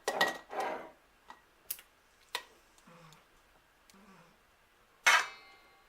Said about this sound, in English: I'm going to start putting my onions in my jars